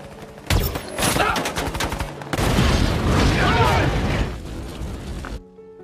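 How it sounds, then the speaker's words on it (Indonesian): A sniper's gunshot strikes a car loaded with explosives in the 2014 film American Sniper, loud sharp cracks followed by a long booming blast and rumbling debris that cuts off abruptly, with a voice talking over part of it. "Dengan sekali tembakan, Chris melumpuhkan mobil itu."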